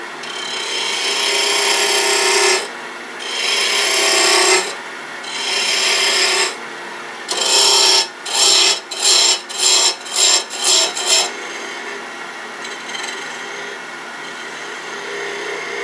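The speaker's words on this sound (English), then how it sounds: "we're going to use a spindle roughing gouge, which is the fastest and easiest tool to do this kind of shaping" A spindle roughing gouge cuts wood turning on a lathe, making loud, close, raspy shaving passes. Several long strokes come first, then a quick run of short choppy cuts, then a fainter hum.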